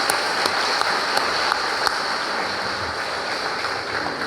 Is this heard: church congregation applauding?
yes